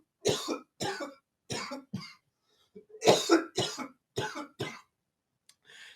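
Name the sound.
cough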